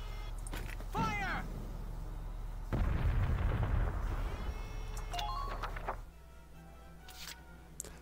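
A tank cannon fires in Valkyria Chronicles and blasts through walls. One booming explosion bursts out with rumbling debris for a few seconds, among softer game effects and chirps.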